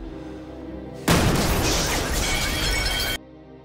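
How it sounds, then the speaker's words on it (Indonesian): A sudden loud explosive blast in a Sherlock film scene, a dense roaring burst that holds for about two seconds before cutting back to a quieter tonal background. "John melihat berita ledakan yang terjadi di apartemen Sherlock"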